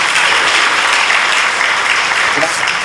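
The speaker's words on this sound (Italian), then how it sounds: "un applauso per lei" Loud, steady applause from a school audience in San Demetrio Corone greets a guest, thick continuous clapping with no break across the whole stretch.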